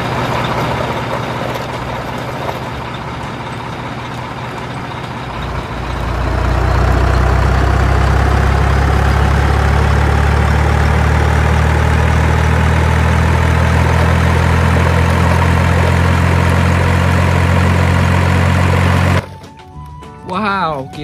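A toy truck loaded with toys rolls along with a loud, steady engine-like drone that swells after a quieter start and holds for about twelve seconds before cutting off abruptly.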